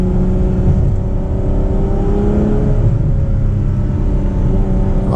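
Ferrari 812 Superfast with a naturally aspirated 6.5-litre V12, its engine running with a loud, steady, close-up drone and rising whine across the whole stretch, with no talk over it.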